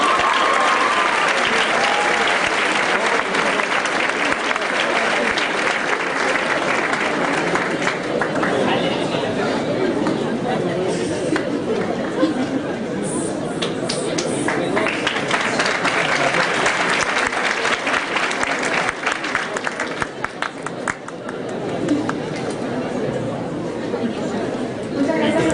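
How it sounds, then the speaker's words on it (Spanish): Sustained, dense audience applause at a business congress, steady and loud for about 25 seconds with a murmur of crowd chatter running underneath. "Un aplauso nuevamente para Carolina."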